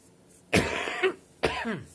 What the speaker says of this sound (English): I don't mind the coughing